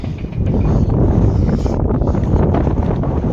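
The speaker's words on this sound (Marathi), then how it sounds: "वारा पण भरपूर आहे." Strong wind sweeps across a creek during a net-fishing outing, buffeting the microphone with a loud, continuous roar and no voices.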